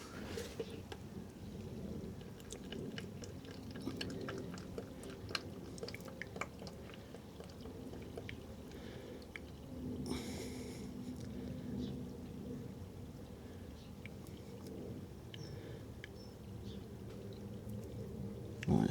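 Drained engine oil from a Porsche Boxster S 986 being poured into a 2-litre container, a steady low liquid gurgle and trickle running throughout with small knocks and clinks, close by and without talk.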